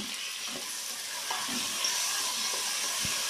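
Onions frying in oil in a pan, a steady close hiss with faint stirring knocks every half second or so, no talking.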